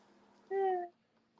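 A cat gives a single short meow, clear and fairly close, against a quiet room with faint background hum.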